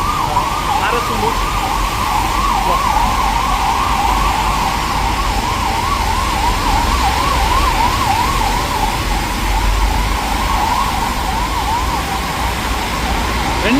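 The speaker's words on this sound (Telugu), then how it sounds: "రెండు అంబులెన్స్లు పోయినాయి ఫ్రెండ్స్" Ambulance sirens wail continuously in a rapid up-and-down yelp over the hiss of traffic on a rain-soaked road at night, holding loud and close throughout.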